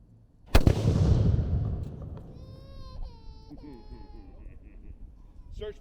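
A single cannon blast booms at a Yorktown reenactment, one loud sharp report whose rumble slowly fades, followed by voices and faint whistling in the background.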